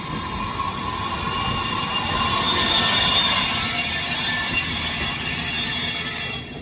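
The New Delhi–Bilaspur Rajdhani Express passes on the adjacent track, a loud, steady close-up roar of wheels and carriages with high metallic squeal running throughout before easing off at the end.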